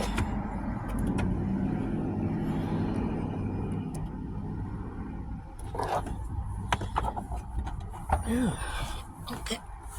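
Car driving on a road, heard from inside the cabin: a steady low engine and road rumble fills the whole stretch, with a few brief knocks and rattles near the end.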